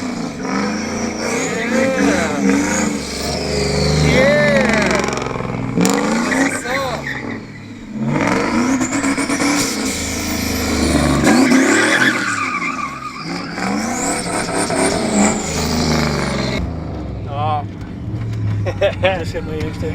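A Z car driven hard with its engine revving repeatedly, tires squealing through slides and bursts of acceleration, loud and close over about twenty seconds, with people talking and exclaiming in between.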